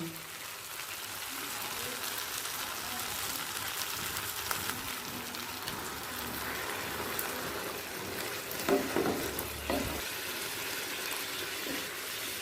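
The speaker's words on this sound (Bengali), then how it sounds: "মাছটা পেঁয়াজের সাথে এক মিনিট কষানো হয়ে গেছে এই সময় দিয়ে দিচ্ছে গরম জল" Hot water poured into a pan where catla fish pieces fry with onions over medium flame, a steady broadband sizzle and watery hiss throughout, with a brief bubbling burst midway.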